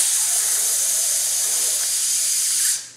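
A sustained voiced sizzle exhale, mimicking the air stream used in brass playing, hisses bright and loud for nearly three seconds before tapering off abruptly.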